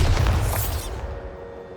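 Bombarda spell blast in Hogwarts Legacy, a loud low boom that is already going at the start, then rolls off into a fading rumble with a faint lingering tone.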